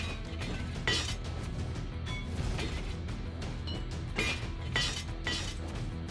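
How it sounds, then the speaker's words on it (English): Enemies in a roguelite action game break apart with sharp, glassy shattering like plates smashing, several bright crashes scattered over a continuous low rumble of game sound and music. "these guys sound like shattering plates"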